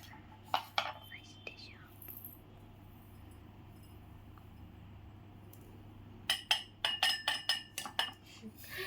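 A spoon clinks against a container as sugar is added for a homemade bubble mixture, giving a few sharp metallic taps at first and then a quick cluster of clinks near the end, with soft whispery voice in between.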